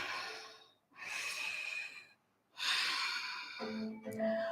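Slow, audible breaths taken during a yoga flow, with long airy inhales and exhales separated by short quiet gaps, close and fairly soft, with no talking.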